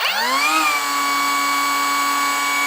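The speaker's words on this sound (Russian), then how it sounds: "Отпускаем, включаем и работаем." A Heimerdinger LB201 mini angle grinder spins up and runs steadily with a high, whining motor tone, close and loud, with no one talking.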